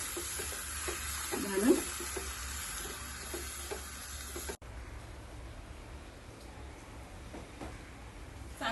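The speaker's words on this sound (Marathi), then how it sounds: "त्याला असं मिक्स करून घ्यायचं गॅस जरा मोठा करून मिक्स करून घ्यायचं" Kothimbir vadi batter of gram flour and coriander is stirred in a pan on a gas stove, with soft scraping and a low sizzle that continues steadily, quieter in the second half.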